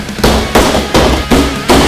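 Four sharp, loud metallic hammer blows on a padlock frozen brittle with liquid nitrogen, evenly spaced about every 0.4 seconds, each a broadband crack with a short ringing decay.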